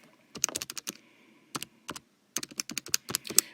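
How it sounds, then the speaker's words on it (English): Quick keypresses entering numbers into a calculator, in two short bursts of crisp clicks separated by a pause, close and moderately loud with no talking. "And type that in our calculator"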